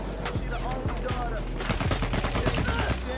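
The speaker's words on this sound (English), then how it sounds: "let's run back toward our problems because we're getting shot" Battlefield 1 multiplayer firefight with dense bursts of automatic rifle fire and scattered gunshots crackling throughout, loud and continuous, growing busier in the second half.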